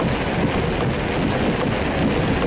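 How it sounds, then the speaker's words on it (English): Heavy rain drumming on a vehicle driving slowly through a small town amid flash flooding, a dense, constant roaring hiss with no talking. "Had some really heavy rain through here, more than we've had at home."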